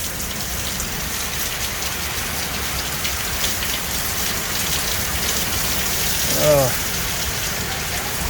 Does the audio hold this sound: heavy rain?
yes